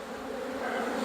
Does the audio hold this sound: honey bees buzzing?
yes